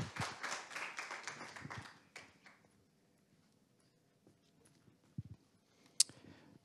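An audience applauds a presenter at a startup pitch event, a dense burst of clapping for about two seconds that quickly thins out, followed by near silence with a few scattered claps and taps.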